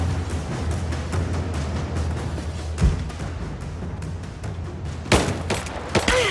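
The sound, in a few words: gunfire and grenade in a video game, Rise of the Tomb Raider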